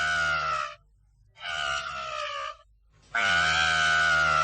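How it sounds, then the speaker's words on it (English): A toy in a 1996 Dingo Pictures animated movie screams in three loud, shrill bursts separated by brief silences, the last one longest and strongest. "then the new toy promptly started to scream"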